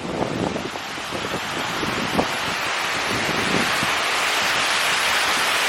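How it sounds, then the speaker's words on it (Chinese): Strong wind roars steadily across the microphone in Zunyi, China, mixed with the dense hiss of heavy rain, loud and continuous throughout. "你看，外边狂风乱作。"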